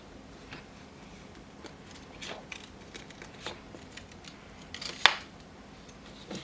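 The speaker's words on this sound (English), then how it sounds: "I basically use sewing scissors for my creative journal" Small Singer sewing scissors snip paper for a creative journal, a handful of faint, scattered crisp cuts with one sharper, louder snip near the end, alone against a quiet room.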